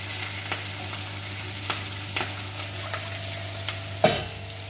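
Onion and carrot sizzle steadily in hot ghee in a pan, a continuous close frying hiss with light stirring scrapes and one sharper clack near the end, no voices.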